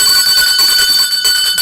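A bell rings to mark a contest winner, a loud rapid metallic ringing that runs steadily through the whole stretch with brief dips, alone and without speech.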